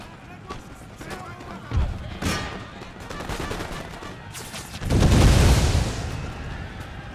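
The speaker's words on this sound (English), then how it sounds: "We're getting shot by the militia" Musket volleys from militia in the video game Empire Total War crackle as scattered battlefield gunfire, with a louder burst of massed shots in the second half, under game ambience.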